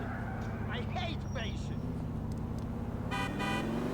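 A car horn in the video game GTA IV gives a short honk near the end, over a low, steady engine hum. Voices can be heard in the background.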